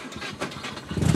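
Mazda RX-7 rotary engine on a cold start, a brief rough rumble that rises and grows louder as the revs climb toward the end.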